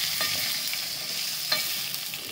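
Stuffed ridge gourd fries in a little oil in a pan over a low flame, giving a continuous soft sizzle with a couple of faint stirring taps.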